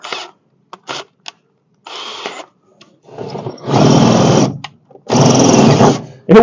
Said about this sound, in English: Try not to drill a hole through my gas tank.